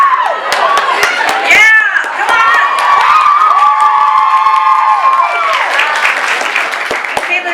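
A lively crowd at a New York book launch cheers, shouts and claps loudly throughout, with voices whooping over the applause.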